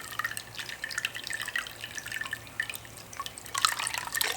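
Bottled water is poured over a Swiss Army knife in a garage, producing faint irregular drips and splashes in quick succession.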